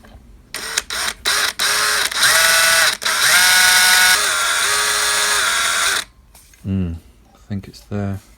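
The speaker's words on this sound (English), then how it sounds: "we'll gently go in with this 3mm drill" A small power drill with a 3mm bit whines in several short bursts and one longer run, then stops; a few quieter rising motor spurts follow.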